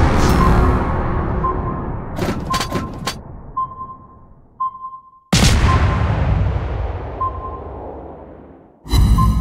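Naval guns in a warship video game featuring a Clemson-class destroyer boom loudly in heavy bursts that fade away, broken by quick whooshes and short electronic beeps, with another sharp blast at the very end.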